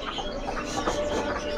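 A Poxe Mandarin bird in a bird shop gives soft, repeated calls, blurred into a dense, noisy background of other birds and room sound.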